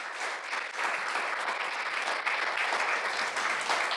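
An audience applauds steadily, a dense wash of clapping hands that holds at an even level throughout.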